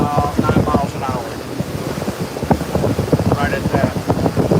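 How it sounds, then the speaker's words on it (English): Gusting wind buffets the microphone aboard a cruising boat at sea, mixed with waves and rushing water in a continuous roar, with someone talking over it. "Windy today."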